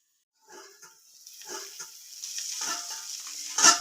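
Sesame and yardlong bean curry sizzles in a pan as it is stirred, with scraping strokes starting after a short silence and a soft, steady frying hiss building beneath them.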